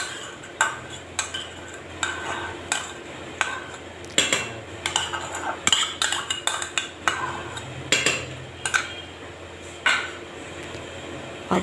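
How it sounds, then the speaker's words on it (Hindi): A spoon stirs yogurt mixed with a teaspoon of sugar into chicken in a pot, making repeated clinks and scrapes against the metal in an uneven rhythm, close and fairly clear, with no talking. "अब इसको दही के साथ मिक्स कर लूँगी"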